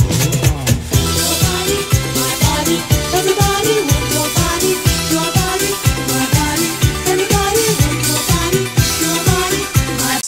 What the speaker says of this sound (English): in this track I used a sample from an old disco track